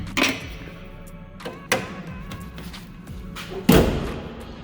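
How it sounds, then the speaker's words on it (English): A Ford Escape being shut after an oil change gives three solid, close thuds spaced a second or two apart, each dying away quickly over a low background, with no voices. "close your car"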